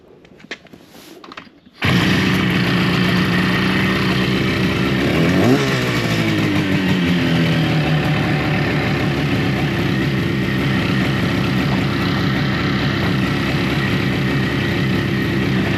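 A 1970 Yamaha DS6 motorcycle engine starts and runs steadily, loud and close, with a brief rev and falling pitch before settling into a rough idle.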